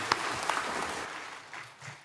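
Steady, fairly faint clapping from a church congregation during a worship service, a continuous patter of hands that fades slightly toward the end.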